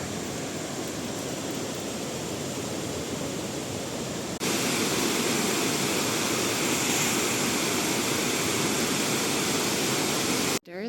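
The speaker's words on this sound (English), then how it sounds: "this is a proper waterfall" A proper waterfall in Upper Austria pours with a dense, steady roar, growing louder and closer partway through and continuing unbroken to the end.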